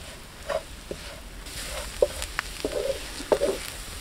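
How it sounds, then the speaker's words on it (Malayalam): Chilli powder and masala for beef sauté in a pan over a wood-fired stove, giving a soft continuous sizzle broken by several sharp spoon scrapes and clicks at close range. "ഇതിൻ്റെ മസാലയുടെ ഒക്കെ ഒരു കുത്തൽ മാറുന്ന, പച്ച മണമൊക്കെ മാറുന്ന വരെ ഒന്ന് വഴറ്റിയെടുക്കാം നമുക്കിതിൽ"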